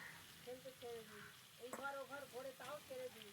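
Pre-fried potatoes dropped into a pan of frying spicy Bengali crab curry, a soft, quiet sizzle with faint stirring and clinks, some murmuring voice in the background.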